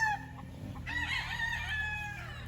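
A pure golden boy gamefowl rooster, breeding stock from a farm, gives one drawn-out crow after a brief cluck, near and fairly clear over a low background hum.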